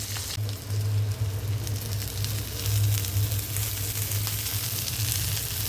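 Crab frying in a pan with turmeric and black pepper, a loud, steady sizzle that carries on without a break from start to finish, close up and with no voices.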